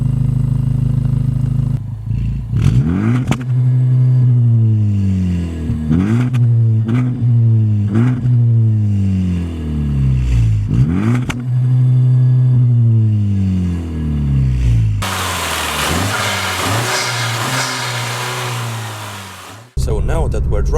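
Honda Civic Type R FK2 engine starting up and then driving, its note rising and falling through repeated gear shifts before a burst of broadband noise near the end; a voice talks over parts of it.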